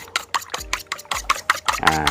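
Egg mixture with fish sauce being beaten in a bowl with a spoon or fork, a rapid series of close, clicking scrapes and taps against the bowl.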